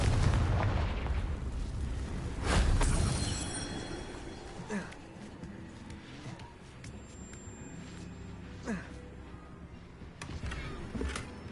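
A Confringo fire spell bursts in Hogwarts Legacy with a deep booming explosion that rumbles and fades, followed by lighter crackles and scattered impacts.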